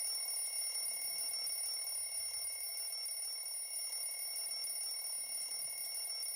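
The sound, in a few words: alarm clock ringing in a video game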